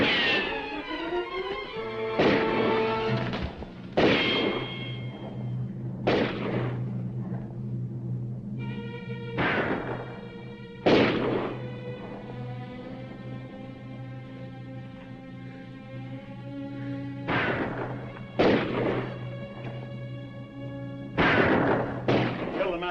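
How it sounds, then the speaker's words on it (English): Gunfire rings out in a 1950 western film shootout: sharp, echoing shots come singly and in short bursts at irregular intervals over a sustained orchestral score. "Keep shooting."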